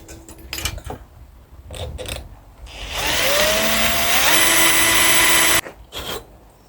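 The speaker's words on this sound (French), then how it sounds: "on va percer les petits trous pour pouvoir frapper la pointe sur le demi-bastin" A power drill boring small pilot holes in wood for nails, used for mounting gutter hooks: a loud, steady whirring run lasting a few seconds, with shorter bursts of tool noise and handling before and after.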